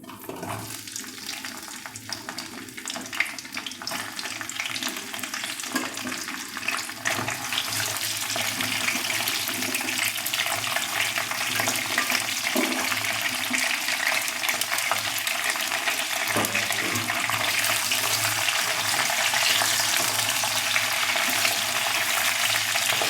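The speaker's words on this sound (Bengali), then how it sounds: "এবার এই ঢ্যাঁড়সটা এর মধ্যে দিয়ে দেব।" Half a kilo of whole okra with the tops trimmed goes into a hot pan, starting quietly before a loud, steady frying hiss builds and holds, with no voices.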